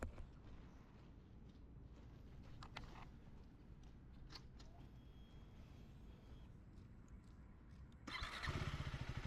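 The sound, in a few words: KTM Adventure 390 motorcycle riding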